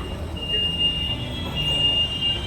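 Howrah metro train at an underground station platform, a steady, fairly loud rumble and rail hum with a faint high whine running throughout.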